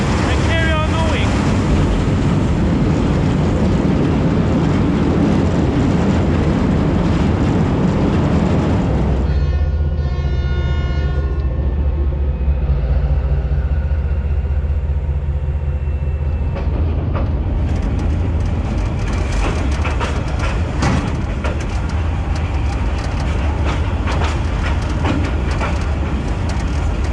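A train wagon rolling loudly along a railway in Vietnam, a steady heavy rumble and rattle of the car on the track with wind noise, briefly easing before the clatter builds again, close and continuous.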